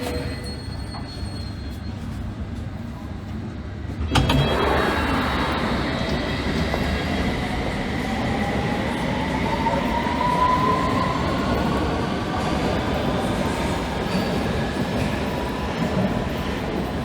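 A London train rumbles steadily at a station platform, a broad continuous roar of wheels and motors with a faint squeal, growing louder after a sharp onset partway through and running on without speech.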